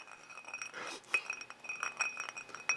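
Bourbon glass of Old Fitzgerald 7 Year bottled-in-bond stirred with a finger, giving a string of light, close glassy clinks and taps at an uneven pace, fairly quiet with no voices.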